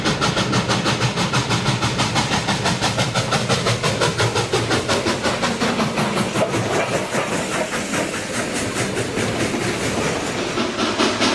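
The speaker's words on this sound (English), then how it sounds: "train goes over bridges, many bridges in the Niles Canyon Railway" Southern Pacific 2475 steam locomotive runs through Niles Canyon over bridges with a loud, continuous rhythmic clatter of wheels and rapid steady chuffing, close and unbroken throughout.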